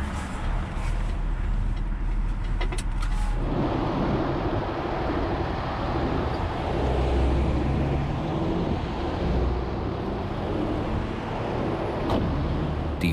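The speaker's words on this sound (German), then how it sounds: "Der fließende Verkehr, wenn der an einem vorbeifährt." Flowing motorway traffic rushes past an accident scene on the German Autobahn, a continuous loud roar of passing vehicles with swelling and fading passes. No talk.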